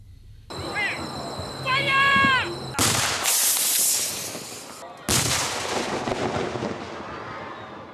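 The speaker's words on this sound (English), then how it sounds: "the Riggers Company affiliated to Signal Squadron detonated explosives simultaneously with the switching on of Christmas star to light the city" Explosives detonated together by a military riggers company at a barracks end-of-year ceremony as a Christmas star is lit, heard as loud, sharp blasts with crackling bursts and a whistling rise, followed by a rumbling tail and a second heavy blast.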